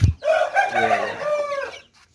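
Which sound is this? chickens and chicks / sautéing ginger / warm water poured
chickens and chicks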